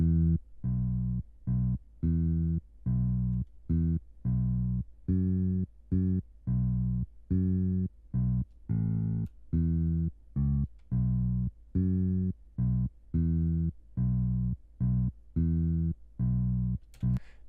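A solo bass guitar plays a steady rhythmic rock line of short, evenly spaced low notes outlining the chords, clear and close with no other instruments.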